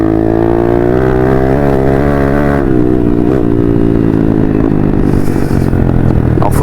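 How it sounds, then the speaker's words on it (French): A dirt bike motorcycle engine idles and revs loudly and up close, its note wavering and labouring as if short of air, running steadily throughout with a faint clatter near the end. "La moto a du mal à respirer."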